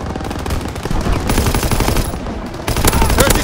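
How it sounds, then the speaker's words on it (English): Dense, loud machine-gun and rifle fire rattles continuously up close in a Call of Duty: WWII battle, aimed at infantry near a tank, with rapid bursts overlapping and barely easing. "They fire on the infantry by the tank!"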